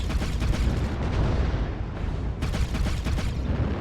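Pulse laser weapons from a mech in a video game fire in dense, loud, continuous bursts. Rapid crackling shots overlap across the whole stretch, with a brief dip partway through before the barrage resumes.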